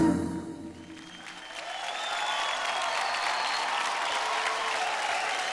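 Studio audience applause on a kids' dance and comedy TV show, starting after a brief musical moment and swelling into steady, loud, sustained clapping and cheering from the crowd.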